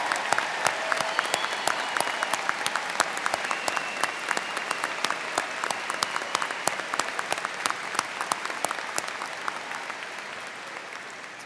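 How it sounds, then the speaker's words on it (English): A large crowd applauds steadily at a college commencement ceremony, dense clapping holding at full strength throughout before easing slightly toward the end. "Please join me in one final round of applause"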